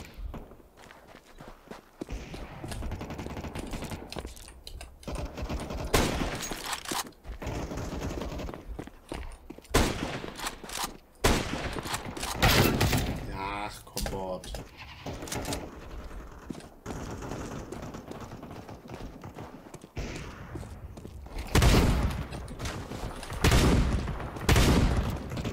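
Bursts of Counter-Strike 2 deathmatch gunfire crack repeatedly amid rapid footsteps and clatter, with volleys coming in irregular clusters over a busy, noisy background.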